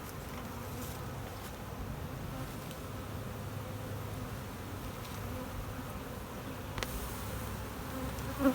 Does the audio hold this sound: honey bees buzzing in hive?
yes